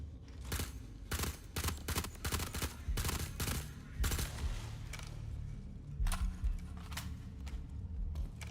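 Enemy gunfire in the video game Star Citizen, a string of sharp, loud shots in irregular bursts with short gaps between them, close and unaccompanied by talk.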